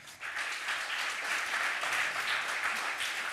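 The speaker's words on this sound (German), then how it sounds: "Also dann. Applaus" Audience applause on a live sports quiz show, a dense wash of clapping that swells just after the start and holds steady and loud throughout.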